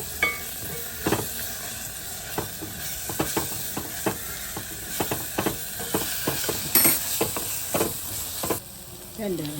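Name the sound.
curry leaves sizzling as they are added to the pan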